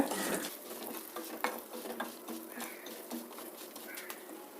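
Chana dal, urad dal and rice dry-roasting in a pan make a steady, soft rattling sizzle with repeated scrapes and clinks of a spoon stirring, close and alone.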